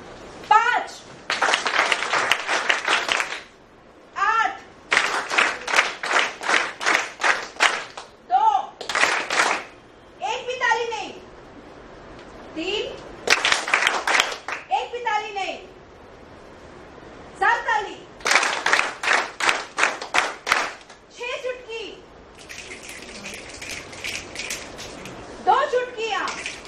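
A group of children clapping their hands in counted bursts, each round a quick run of sharp claps followed by a pause, with a voice calling out numbers between the rounds.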